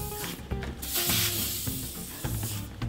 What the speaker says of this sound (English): take a little WD-40 on our stones. And a little WD-40 in the cylinder